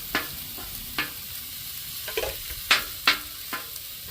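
Rice fries in a hot pan with a soft sizzle, broken by several sharp scraping stir strokes at irregular intervals, close and fairly quiet.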